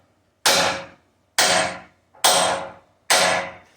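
A heavy hammer drives a bushing dry into the arm of a Cat 259B3 skid steer: four sharp metallic blows, evenly spaced and loud, each ringing briefly before fading.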